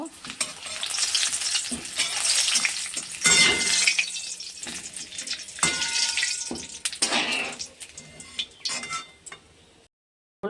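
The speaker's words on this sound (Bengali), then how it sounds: "তেল দিয়েছি পাঁপড়গুলো ভেজে নেব" Papad frying in hot oil in a pan, a loud crackling sizzle that rises and falls as pieces are stirred and turned, with utensil scrapes and clinks, close up, fading near the end.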